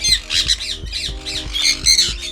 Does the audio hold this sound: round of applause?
no